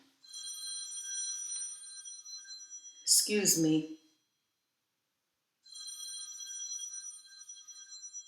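An electronic telephone bell rings in two long trilling bursts separated by silence, with a brief spoken phrase cutting in between them.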